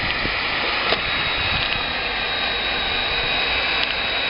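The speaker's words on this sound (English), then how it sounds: "now let's show how to weld the edge of the picture. Put the machine the wheel on the edge." A hot air welding machine runs along the edge of a sheet, its blower giving a steady, loud rushing roar with a few faint clicks and no speech.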